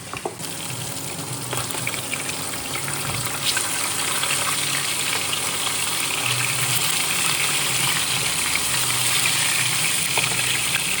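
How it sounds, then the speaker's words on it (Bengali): Fish frying in a pan, a steady broadband sizzle and hiss that runs continuously, fairly loud and close, with no talking over it. "এখানে মাছ ভাজা হচ্ছে"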